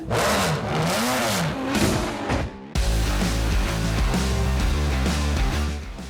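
A BMW 7 Series with a V12 engine accelerates hard on a lap, its engine note sweeping up and down through the gears, loud and close, with a sharp shift break midway before the revs climb again under steady roar.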